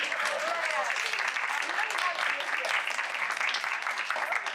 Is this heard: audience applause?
yes